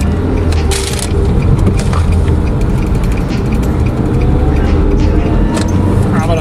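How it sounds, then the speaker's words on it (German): A car accelerates along the N4 main road in South Africa, a loud steady engine and road roar heard from inside the vehicle, with wind and rumble throughout. "endlich darf ich auch das Gaspedal mal wieder tiefer treten"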